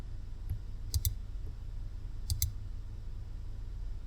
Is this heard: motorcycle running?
no